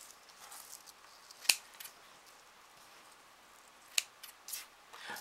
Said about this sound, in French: Ma paire de ciseaux, elle est là.